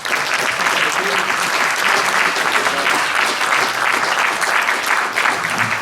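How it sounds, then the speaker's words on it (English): A crowd applauds steadily for George Galloway at a talk and Q&A event, dense continuous clapping at an even level throughout. "can we have another round of applause for George,"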